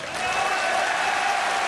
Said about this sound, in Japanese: そしてそのノアのマットにはこの大歓声が待っていました。